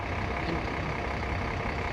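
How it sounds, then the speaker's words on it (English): A bus stopped on a street in Japan on a summer day puts out a steady, loud, close rush of engine and exhaust noise that holds evenly without a break for the whole two seconds. "Some kind of exhaust came out."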